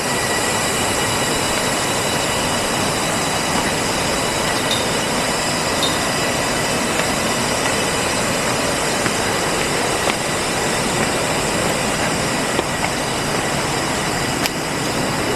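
A river at Parshuram Kund in Arunachal Pradesh rushes nearby as a loud, steady, unbroken roar, with thin high insect-like tones running faintly above it.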